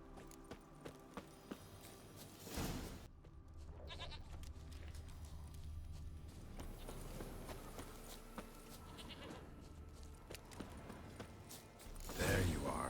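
Goat bleating in the video game The Witcher 3, short calls breaking through steady game ambience and a few clicks, with a louder burst near the end.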